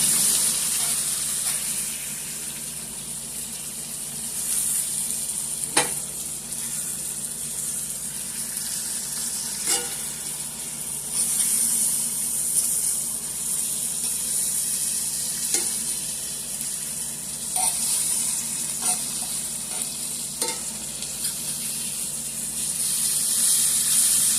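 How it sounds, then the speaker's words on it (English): Beef liver and onions sizzling in butter in a hot pan, a steady close frying hiss throughout with occasional sharp crackles and pops, no talking. "let them onions cook up in that liver"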